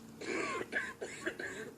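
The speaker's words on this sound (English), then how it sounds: "You've had that cough a while" A few quiet, rough coughs and throat-clearing sounds in a short burst, fairly faint.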